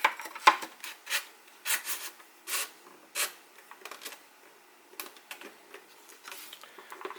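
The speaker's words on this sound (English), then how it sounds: "we got to push the spar through the other wing" A foam wing spar pushed through the foam wing of an Eachine Fury RC plane, giving a series of short squeaky scraping rubs in irregular bursts, close and fairly quiet, with no talking.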